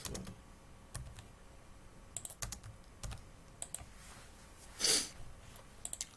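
Code being typed on a computer keyboard during a live SQL Server lecture, with scattered clicky keystrokes in short bursts and pauses, fairly quiet and close, with a louder breathy puff near the end.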